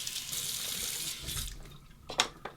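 A bathroom tap runs water for a final rinse while shaving, a close steady gush that breaks into splashes as hands move through the stream.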